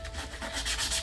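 A gloved hand rubs steadily over a Tigra car wheel during refurbishing, giving a close, continuous scrubbing and sanding hiss that swells slightly toward the end, with no voices.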